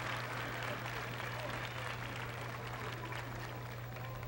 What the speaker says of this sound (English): let's have another big round of applause for the Blazing Brigade, the dance line, the flag corps,